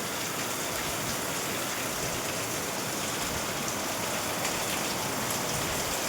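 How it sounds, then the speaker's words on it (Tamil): Heavy rain pouring on surfaces and through trees near a window during a thunderstorm, a dense, loud, continuous hiss of drops with no distinct thunder clap. "இடி இடிச்சிட்டு ரொம்ப நிறைய மழை வருது"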